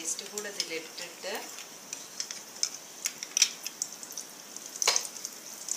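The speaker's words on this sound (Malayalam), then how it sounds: "ജീരകം ഒന്ന് മൂത്തു തുടങ്ങുമ്പോൾ നമുക്ക് ഒരു 1/2 ടീസ്പൂൺ ജിഞ്ചർ ഗാർലിക് പേസ്റ്റ് കൂടെ ഇതിലിട്ടിട്ട്" Cumin seeds frying in oil in a pan with ginger garlic paste added, a soft continuous sizzle broken by scattered crackles, pops and light spoon-against-pan ticks, close and fairly quiet.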